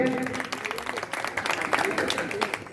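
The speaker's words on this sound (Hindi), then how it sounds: "एक बार जोरदार तालियों से स्वागत करेंगे" An audience at an Indian lecture event on Maharshi Valmiki's life breaks into applause, with scattered claps blending into a crowd rush while a voice talks over it.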